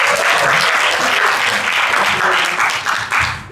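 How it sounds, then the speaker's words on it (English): An audience at a lecture on tourism innovation claps together, a loud dense burst of applause that holds steady and then tapers off near the end. "Give applause."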